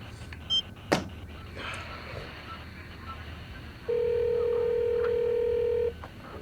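A telephone sounds during a Delhi crime drama scene: one steady electronic tone holds for about two seconds against a quiet room, after a couple of faint clicks.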